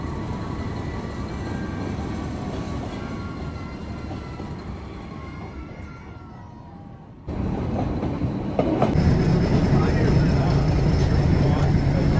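The Nilgiri mountain train on the Ooty to Coonoor line rumbles along steadily, a dense, close rolling noise that grows louder and harsher partway through as it picks up.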